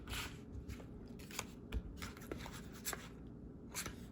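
Soft, sparse flicks and slides of playing cards being dealt at a blackjack table, each card a brief crisp snap or swish at a quiet level, with faint room tone between.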